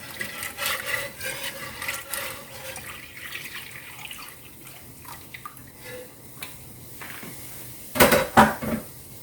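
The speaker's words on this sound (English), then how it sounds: "go ahead and add the rest of your skim milk" Skim milk pours into gravy in a pan for baked potato soup, a soft liquid splashing with light clinks of utensils, ending in a louder clatter.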